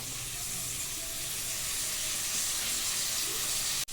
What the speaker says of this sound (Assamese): এতিয়া পিঁয়াজখিনি অলপ অলপ ফ্ৰাই কৰি ল'লোঁ।